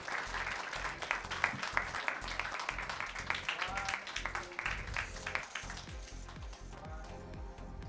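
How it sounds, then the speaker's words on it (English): An audience at a university research colloquium claps steadily, a continuous patter of hands at moderate distance that gradually thins toward the end, with faint voices mixed in. "A round of applause, please."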